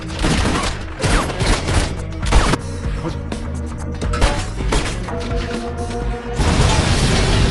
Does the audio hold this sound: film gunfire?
yes